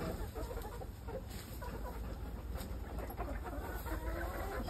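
Free-roaming chickens loose in an open yard, clucking and calling repeatedly at moderate distance over a steady background hum, with no talking.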